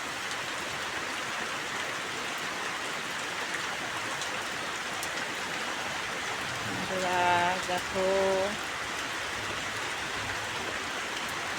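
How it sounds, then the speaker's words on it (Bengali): Steady rain pours down on a small, run-down house during a storm, a dense even hiss throughout, with a voice speaking briefly near the middle; no thunder stands out. "দেখো কি বৃষ্টি আর মেঘের কি ডাক"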